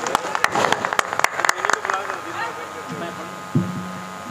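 Brief applause from an audience at an All India Mushaira and Kavi Sammelan poetry recital in Tajpur, Samastipur, Bihar, a burst of fairly close claps that fades out, followed by talk.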